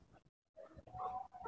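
A large chicken clucks in a few short, throaty bursts, close by, with a brief silent gap early on and light background rustle.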